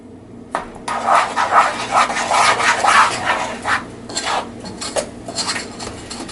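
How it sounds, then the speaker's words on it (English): Spoon or spatula scraping and stirring melted chocolate and butter in a pot for no-bake cookies, a busy run of close rasping, clinking strokes with short pauses, no voices. "I'm also scraping the sides of the pot so I get as much of the chocolate in here as I can."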